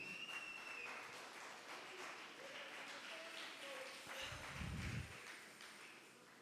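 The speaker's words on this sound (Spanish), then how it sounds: "Denle palmas al Señor." A Spanish-language church congregation claps for the Lord during a sermon. Moderate, continuous applause spreads through the room, with a low thump and a brief rumble near the end as the clapping carries on.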